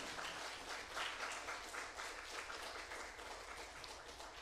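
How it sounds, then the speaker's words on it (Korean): A church congregation at a young adults' service applauds couples with a blessing, a faint, distant, steady patter of many hands clapping like rain. "뜨겁게 축복의 박수 한번 부탁드리겠습니다."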